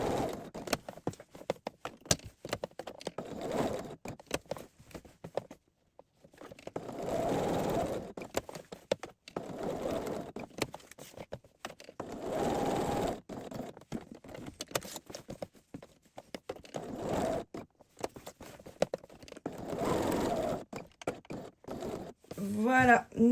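Sewing machine stitching through several layers of polo shirt fabric, the shirt front and both button plackets, in repeated runs of a few seconds separated by short pauses, with brief handling noises in between.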